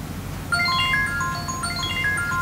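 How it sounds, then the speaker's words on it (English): A device ringing with a bright, repeating electronic melody of short tones, steady and fairly loud throughout with no talk. "It's ringing."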